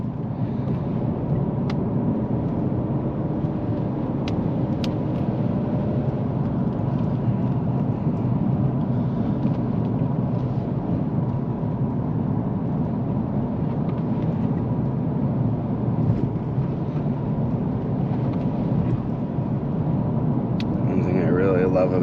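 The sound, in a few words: Ford Fusion Sport 2.7 driving in sport mode, manual gear shifts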